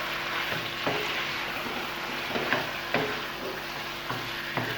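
Chicken handi sizzles in a pan with previously fried onions mixed in, giving a steady frying hiss punctuated by periodic knocks and scrapes of a spoon stirring against the pot, with no talking.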